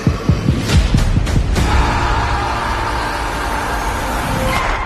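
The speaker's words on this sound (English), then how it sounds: "Let us feel the heart beating." A heartbeat sound effect thumps in a quick run of low pulses for about a second and a half, then fades under a steady rumbling crowd-like hum that fills the rest of the stretch.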